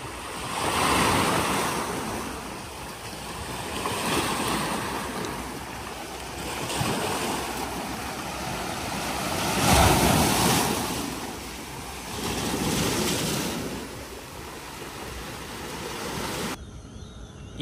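Sea waves roll in and break on the beach at Pantai Remis on a breezy morning, a loud, steady wash of surf swelling and fading in repeated surges, with wind buffeting the microphone.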